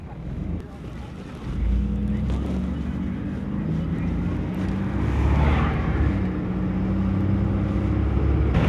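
A van with worn-out suspension, used as a rig for a hot rod road tour, drives around the block: a steady, loud engine and road rumble from inside the cab, with wind noise, continuous throughout.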